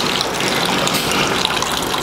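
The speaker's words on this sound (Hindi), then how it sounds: "देखिए अभी इसके अंदर पानी आ रहा है" Water gushes steadily into a soda filling plant line, a constant dense rushing flow heard up close and loud throughout, with no voices.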